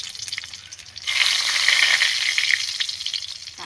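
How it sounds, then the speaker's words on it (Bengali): Coriander seeds and dried chillies drop into hot oil in a kadai, setting off a sudden loud, crackling sizzle about a second in that carries on steadily up close to the end, with no voices. "কড়াইয়ে তেল দিয়ে দিয়েছি, এর মধ্যে আমি ধনে ফোড়ন দিয়ে দিলাম।"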